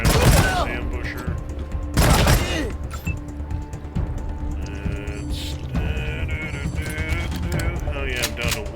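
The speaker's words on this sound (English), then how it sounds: "Let's go ahead and put some rounds on this ambusher." Shots from a gun fired at an ambusher in the video game Wasteland 3, with several sharp broadband bursts standing out over a busy mechanical game backdrop, and a voice talking throughout.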